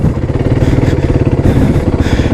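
A motorcycle engine chugs close by with a rapid, regular pulsing throb, throttled through brush for a couple of seconds.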